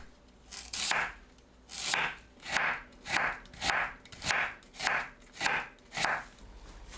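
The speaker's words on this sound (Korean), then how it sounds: "콜라비를 채 썰어주세요." A knife julienning kohlrabi into thin strips on a cutting board for a seasoned vegetable side dish, a close, steady series of about ten crisp chopping strokes in an even rhythm with no talk.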